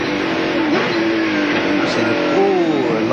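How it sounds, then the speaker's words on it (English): Touring race car at Calder Park in the 1997 ATCC braking hard into a corner, engine note dropping with a tyre squealing as a wheel locks, continuous loud motor under commentary. "Ooh, locking up a wheel there."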